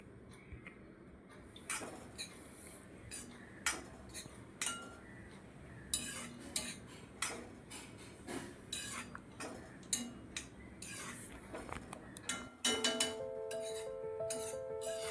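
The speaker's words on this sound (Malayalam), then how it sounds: "എല്ലാം കൂടെ ചേർത്തൊന്ന് വഴറ്റിയെടുക്കുക." Beetroot and horse gram are sautéed in a pan, with a spoon knocking and scraping against the metal at a steady pace under a soft frying hiss. A brief clink comes near the end.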